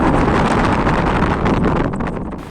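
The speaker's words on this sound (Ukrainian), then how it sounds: "Зараз вітром здує." Strong wind gusts across the Øresund Bridge between Denmark and Sweden, producing a loud, steady roar and buffeting rumble on the microphone that eases slightly toward the end.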